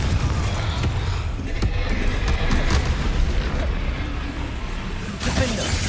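Booming blasts from the Confringo spell in Hogwarts Legacy roll out amid dense, loud battle noise, with voices briefly shouting over the clamour.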